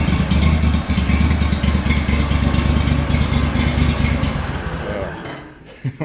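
A Gator Tail 40XD mud motor fitted with a Stainless Works exhaust runs loud and close in a steady, rough drone that eases off and fades near the end.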